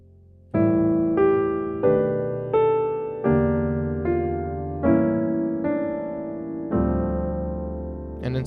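On solo piano, a gospel jazz turnaround variation with substituted chords: about eight sustained chords struck one after another at a steady, unhurried pace, close and clear, with no one speaking.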